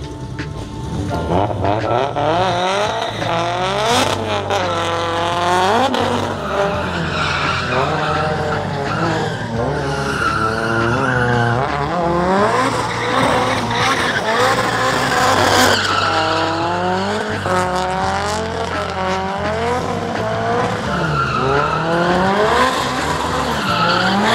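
BMW cars drifting at a track event, tires squealing and skidding in long wavering screeches over revving engines, continuous and loud with occasional voices.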